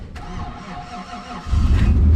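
A truck engine starting in freezing winter weather during snow removal work, a brief crank followed by a loud, steady low rumble as it catches and settles close by.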